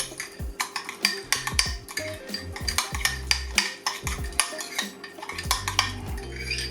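Spoon clinking and scraping around a bowl while mixing a crust mixture for prime rib, a quick irregular series of close metallic taps and scrapes with no talk.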